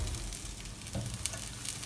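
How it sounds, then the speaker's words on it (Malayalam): Chopped spinach dropping into a hot pan with sautéed coconut for a Kerala-style cheera thoran, giving a steady close sizzle with brief rustling stirs and no talking. "ഇനി ഇതിലോട്ട് നമ്മൾ അരിഞ്ഞു വെച്ചിരിക്കുന്ന ചീര ആഡ് ചെയ്യാം."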